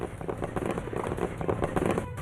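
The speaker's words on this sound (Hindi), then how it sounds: "गांव के लोगों ने पटाखे जलाए और मिठाइयां भी बांटी।" Firecrackers set off by villagers celebrating in a village square, a dense rapid crackle of many small bangs going off together, loud and close, running continuously without pause.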